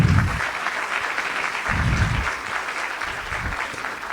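An audience at a national youth participation event applauds, a steady wash of many hands clapping at fairly loud volume throughout, with low thumps and murmurs of movement underneath.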